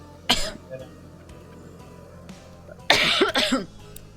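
Two sharp bursts of coughing from one nearby person, a short single cough followed a couple of seconds later by a harsher double cough, over a quiet room with faint background talk.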